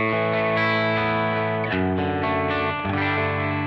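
Clean electric guitar chords with the Strymon Riverside drive pedal bypassed ring out, sustained and bright, changing a few times with no talking.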